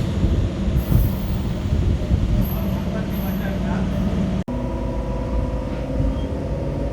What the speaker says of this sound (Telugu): న్యూ జిల్లా రైల్వే స్టేషన్ నుంచి కూడా మన ట్రైన్ అయితే బయలుదేరిపోయింది